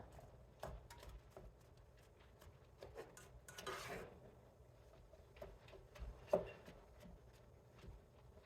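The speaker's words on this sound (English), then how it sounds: "I'm going to mix this up" Soft clinks and scrapes of a utensil against a pot while simmering food is stirred, scattered irregular taps, faint and close, with no voices.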